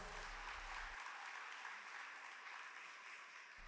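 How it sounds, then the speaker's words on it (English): A crowd at a high school softball state championship celebration applauds the team, producing a faint, distant, steady wash of clapping. "A big round of applause for our girls"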